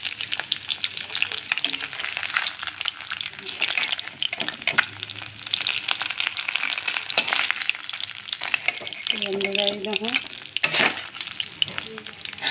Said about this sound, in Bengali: এই দেখো আমার মাছটা ভাজা হয়ে গেছে